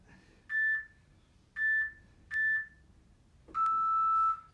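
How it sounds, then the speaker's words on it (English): A workout interval timer beeps four times: three short evenly spaced tones, then a longer, lower final tone, clear and alone over faint room noise. "Hear the timer."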